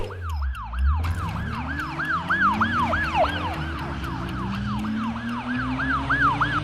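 A police car siren wails in rapid, repeated up-down sweeps, loud and close, over the low rumble of traffic and engine noise, with no talking over it.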